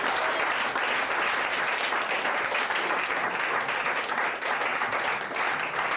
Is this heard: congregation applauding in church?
yes